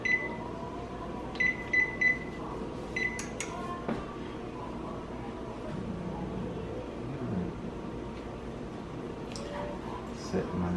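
A kitchen timer gives a few short, high beeps as it is set, mostly early on, under ongoing talk in a home kitchen.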